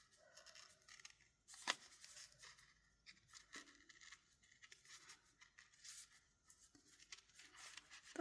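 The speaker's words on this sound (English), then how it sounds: "So I'm going to trim just along the edge of the washi sticker." Tiny scissors trim along the edge of a washi sticker, giving soft close snips and light papery scratches in an uneven series, faint and alone.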